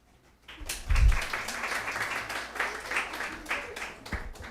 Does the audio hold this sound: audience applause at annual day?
yes